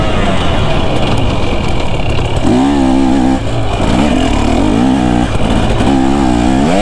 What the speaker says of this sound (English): The 250 2-stroke has more power than my YZ250F by far